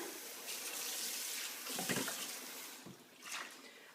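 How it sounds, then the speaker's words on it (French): Tap water runs into a kitchen sink as it is rinsed after scrubbing, a steady close splashing stream with brief louder gushes as the flow hits the basin. "Une fois que vous avez frotté partout, vous rincez."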